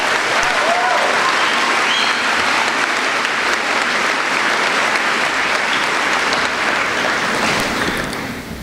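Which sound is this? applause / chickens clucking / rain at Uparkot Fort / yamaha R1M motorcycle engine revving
applause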